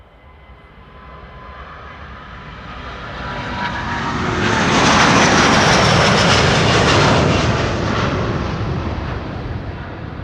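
A brand-new Delta Air Lines Airbus A330neo jet takes off at Amsterdam Schiphol, its engine roar swelling steadily to a loud, broad peak and then holding, close and alone with no talk.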